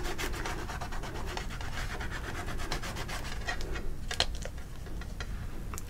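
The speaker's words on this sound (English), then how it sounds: "So I'm just rubbing my finger along the texture of this." A finger rubbing along the textured surface of a mixed media owl artwork, a close, soft scratchy friction with quick ticking catches, continuous and fairly faint, with no talking.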